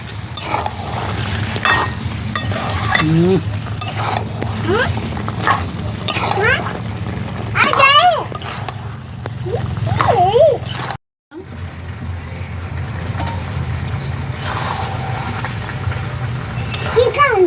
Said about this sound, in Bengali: চিকেন দিয়ে আর একটু ভালো করে কষিয়ে নেব